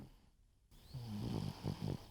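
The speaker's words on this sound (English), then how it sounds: "That's a dog snoring" A dog snoring nearby in a few slow, rhythmic rasping breaths after a brief moment of quiet, each snore a low rumbling drone with rising and falling intensity.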